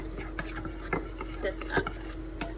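Dry scone ingredients with a sprinkle of cinnamon mixed in a bowl, a close run of quick scraping and tapping strokes from a utensil against the bowl, with a sharper knock near the end.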